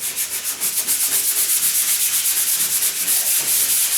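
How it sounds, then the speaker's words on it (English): Steady back-and-forth scraping of sandpaper rubbed by hand over a wooden door, a close, rhythmic rasp with no talking. "but as I'm sanding,"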